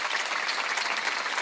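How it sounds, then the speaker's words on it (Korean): Congregation applauding during a Wednesday church service: continuous, dense clapping from many hands, steady and fairly close, with no talk over it. "박수를 쳐줘요."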